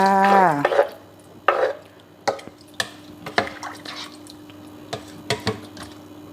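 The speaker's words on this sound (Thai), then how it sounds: "ใส่น้ำล้างโคกค่ะ" Water used to rinse the mortar is poured into a pot of chicken curry with fermented fish paste, chili leaves and glass noodles. Close splashes and scattered drips follow one another unevenly after a brief tonal sound at the start.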